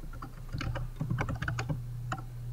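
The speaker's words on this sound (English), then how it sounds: "I'll type a description" Rapid typing on a computer keyboard as a description is entered into accounting software: a dense run of close, crisp keystrokes with no talk.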